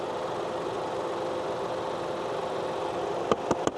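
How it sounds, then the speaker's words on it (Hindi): A new 2024 Maruti Swift's three-cylinder engine idles steadily, a constant even hum with faint vibration, and a few sharp knocks near the end. "ये स्टार्ट है फिलहाल इंजन, और कुछ इस टाइप की जो है इसके अंदर आवाज़ आ रही है।"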